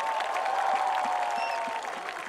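Audience applause for actress Kangana at a Max Bupa Walk for Health campaign event, a steady dense wash of clapping held at an even level throughout.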